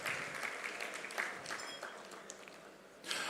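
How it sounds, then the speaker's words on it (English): An audience at an Interact district assembly applauds in a steady, dense wash of clapping that holds at an even level for the whole stretch and swells slightly near the end. "I think you all deserve another big applause for a wonderful job done in organizing this event."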